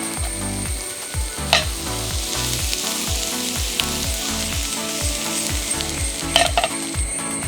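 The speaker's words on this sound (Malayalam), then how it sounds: "കുറച്ച് ഓയിൽ, ഇതിലേക്ക് നമുക്ക് കുറച്ച് ഗാർലിക് ഇടാം." Finely chopped garlic hits hot oil in a pan for garlic pepper prawns, giving a steady, close hissing sizzle with a rhythmic clattering underneath and a couple of sharper clicks.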